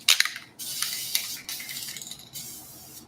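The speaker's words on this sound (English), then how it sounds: "Just spray painting all over my hand." Spray paint can hissing in a few bursts of varying length, close and fairly quiet, with short rattly clicks at the start and brief gaps between sprays.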